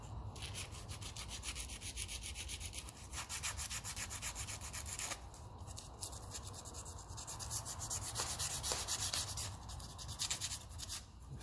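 Abrasive scrubbing on the cast thermostat housing flange of a 1954 Ferguson TEF 20 diesel tractor: steady, close rubbing strokes that run continuously, with a few brief pauses and no voices.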